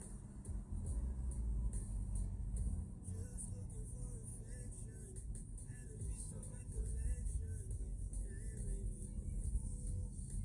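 A car engine's steady low rumble is picked up during an outdoor IRL live stream. It drones continuously for the whole stretch under faint background sounds.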